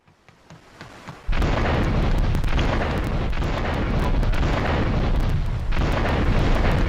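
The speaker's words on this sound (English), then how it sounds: "Investigating public gunfire and explosion." Explosion in Grand Theft Auto III: The Definitive Edition, set around Portland Harbor; after faint clicks a loud blast erupts and sustains as a roaring, rumbling wall of noise with crackles, surging again near the end.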